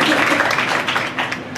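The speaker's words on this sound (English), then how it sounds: "So round of applause, please." A short burst of clapping from the audience at an executive presentation, moderately loud and fading slightly toward the end.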